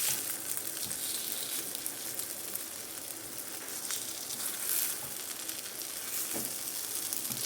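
Banana ada fries on an iron tawa with a continuous close, crackling sizzle, broken only by faint occasional clicks. No one speaks over it.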